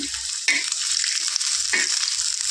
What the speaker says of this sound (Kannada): ಇವಾಗ ಅದರ ಜೊತೆನೇ ಬೆಳ್ಳುಳ್ಳಿನೂ ಹಾಕ್ಕೊಂಡು ರೋಸ್ಟ್ ಮಾಡ್ಕೊಂಡ್ಬಿಡ್ತೀನಿ